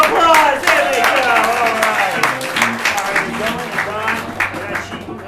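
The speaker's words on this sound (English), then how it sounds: "Yeah, give them a round of applause." An audience claps and cheers steadily as improv comedy performers leave the stage at a live show, with a crowd noise bed and voices throughout.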